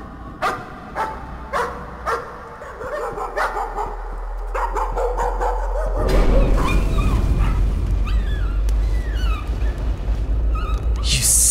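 Dog barks and whimpers in a Layers of Fear horror game hallway, a series of short sharp yaps over several seconds followed by denser whining and eerie ambience, with someone talking over it.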